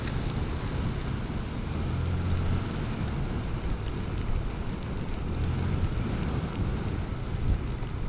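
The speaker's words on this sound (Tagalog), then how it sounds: "Walang magaganap na picture kasi umuulan." Steady rain falls in Dipaculao, Aurora, in the Philippines, a dense continuous hiss with a low rumbling undertone that holds unbroken throughout.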